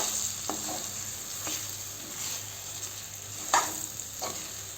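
Semolina mixture for rava laddoo being stirred in hot ghee over low heat, giving a quiet steady sizzle with occasional spoon scrapes against the pan and a faint background hum.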